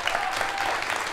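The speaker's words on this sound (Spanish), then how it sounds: "Un grande el aplauso para ellos" Steady applause from a gathered crowd at a school campfire ceremony honoring the incoming fourth-year class, dense and continuous throughout without pause.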